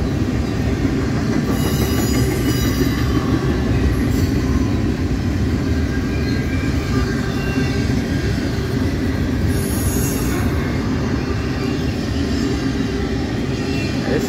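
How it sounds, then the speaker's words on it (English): A Norfolk Southern intermodal freight train led by a Penn Central heritage unit rolls past at night near Homestead, with a steady heavy rumble of wagons and wheels and brief high squeals of wheels on rail. "It's really cool that Penn Central Heritage Unit was leading."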